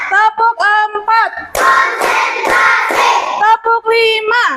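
Children at an elementary school clap their hands together in a classroom clapping routine, a dense rhythmic burst of clapping lasting about two seconds, framed by children's chanting voices before and after.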